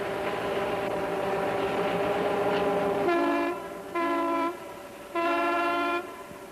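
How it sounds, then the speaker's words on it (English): A Pacific Great Eastern Railway train rumbles through a valley in 1957, then its horn sounds twice in long chords, the blasts loud and clear over the fading train noise. "The Pacific Great Eastern Railway."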